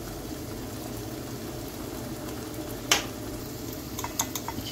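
Tomatoes and spices sauté in a pan for a vegetable bulgur pilaf, a soft steady sizzle close by, with one sharp clink of a utensil and a few light taps near the end.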